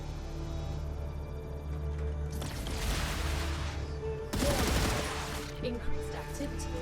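Bursts of automatic gunfire from the video game Star Rupture, two loud, dense volleys over a steady mechanical background hum.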